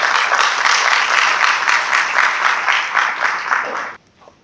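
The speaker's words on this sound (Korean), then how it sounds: "우리 박수로 환영해 주시기 바랍니다." Applause from a congregation at a preachers' continuing-education lecture welcomes a pastor to the front, a bright, steady wash of clapping that cuts off abruptly near the end.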